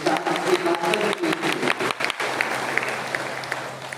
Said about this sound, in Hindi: ताली बजा सकते हैं अपने लिए।